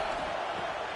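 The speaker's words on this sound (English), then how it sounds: "This crowd is trying to inspire this defense to make a big red zone stop." Stadium crowd at a college football game between Alabama and LSU, a steady dense roar of many voices pressing on during a red zone defensive stand, loud and continuous throughout with no distinct peaks.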